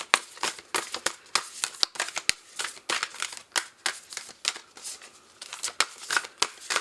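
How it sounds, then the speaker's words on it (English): Tarot cards are shuffled by hand in quick irregular bursts of crisp riffling and slapping, close and clear, with short pauses between strokes and no talking. "Shuffling for Libra."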